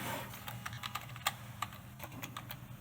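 Quick, light keystrokes on a computer keyboard while entering a formula in an Excel spreadsheet, an uneven patter of clicks over a faint background hum.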